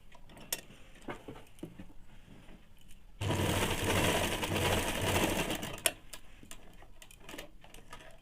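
A sewing machine runs steadily for a few seconds while stitching the pocket on a pair of ladies' pants, its rapid close mechanical hum set between quieter ticks and fabric handling.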